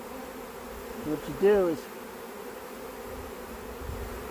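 A honey bee swarm of thousands of bees at a hive frame, buzzing softly in the background while someone talks briefly up close.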